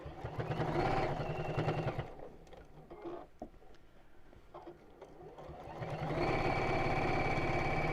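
Sewing machine stitching in two loud, steady runs of rapid mechanical whirring at the start and the end, with a quieter pause of small handling clicks between them, close by.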